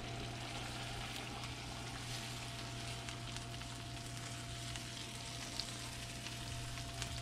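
Sauce sizzles steadily as it hits a hot pan of fish with onions, a continuous close frying hiss with low background hum and no voices throughout.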